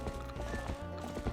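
Goats run in a wrangling minigame from The Legend of Zelda: Twilight Princess HD, their hooves making quick clip-clop beats over a low ambient game drone, fairly faint.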